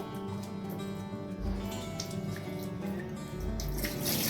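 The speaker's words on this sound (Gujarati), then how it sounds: "હવે આપણે આ પલાળેલું પાણી હોય ને તેને આપણે બહાર કાઢી લેવાનું છે આ રીતે" Soaking water drains from rice being prepared for kheer, a steady running, splashing flow heard close and alone without talk.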